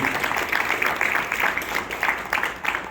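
Audience applause at a school assembly introducing new Safety Patrol members, a moderate, steady patter of many hands clapping in a room, continuing for a few seconds.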